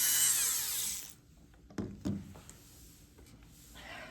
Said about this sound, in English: the Dremel's not on very high